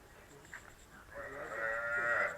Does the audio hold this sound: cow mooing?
yes